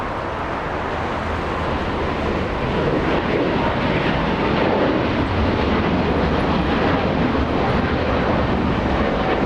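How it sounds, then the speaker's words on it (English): Cathay Pacific Boeing 777 powered by two GE90 engines at LAX, a loud, continuous broadband jet roar holding steady and rising slightly, with no voices over it. "It's Cathay 885, big 777 powered by a couple of GE90s."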